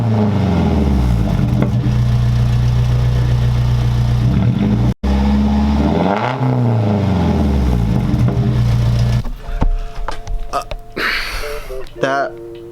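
A 1998 Nissan 240sx fitted with a Tomei titanium cat-back exhaust idles with a deep, steady rumble, then dips and rises in pitch as it revs, followed by a rougher burst near the end, with someone talking over it.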